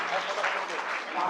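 An audience at a Jain religious ceremony in Gurgaon claps together in a short burst of fairly loud applause, with a voice sounding faintly beneath the clapping.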